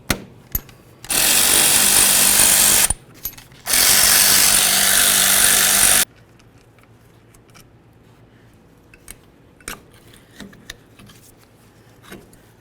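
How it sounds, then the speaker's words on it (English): Power tool, likely an impact gun, spinning out the brake caliper slider bolts on a 1994-2004 Chevy S-10: two loud, close sustained whirring bursts of about two seconds each, then quiet with faint clicks and clanks of parts. "go ahead and remove our caliper to caliper slider bolts"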